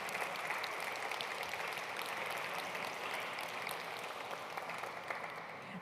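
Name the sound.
applause for the poets and translators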